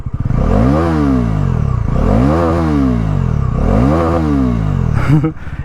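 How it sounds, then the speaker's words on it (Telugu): Bajaj Pulsar NS400Z 2024 exhaust revved three times in close succession, each blip rising and falling sharply, loud and near, with a brief clatter at the end and no talking. "ఎగ్జాస్ట్ సౌండ్ వినండి ఫస్ట్"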